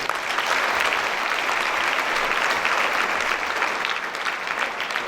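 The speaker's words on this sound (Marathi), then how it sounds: "एक स्वतःसाठी टाळ्याचा प्रचंड गडगडाट करा." Sustained audience applause at a Marathi public success-story event, dense and steady clapping from a large crowd throughout, loud and continuous with no speech over it.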